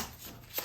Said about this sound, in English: trying to shuffle without my pinky in the way